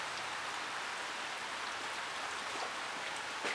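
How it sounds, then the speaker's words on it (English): Steady rain falls on a roadside during a flat tire change, a continuous even hiss of drops with no pauses and no voices. "I'm getting rained on"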